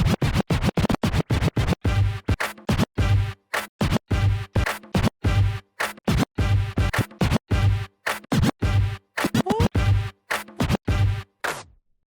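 DJ scratching on a Pioneer DDJ-REV7 jog wheel fitted with felt slip rings: rapid, choppy back-and-forth scratch strokes in tight bursts, loud and close, with no talking.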